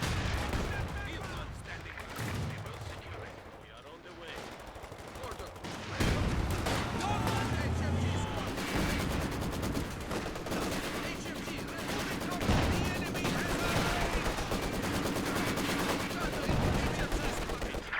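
Machine gun fire rattles through a video game battle, with dense bursts of automatic shots and explosions running loud and continuous, heavier from the midpoint onward, alongside game sounds.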